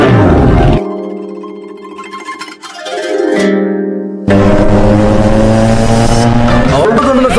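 Heavy road traffic streams past a hookah shop in Hyderabad, loud and close, with engines revving and horns sounding; the roar dips briefly midway before surging back at full strength.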